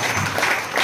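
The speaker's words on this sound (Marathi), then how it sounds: "मग सर्वांनी जोरात टाळ्या वाजून प्रभू येशूचे आभार मानायचे." Applause from a congregation at a prayer centre, a steady wash of clapping that fills the whole brief moment at full loudness.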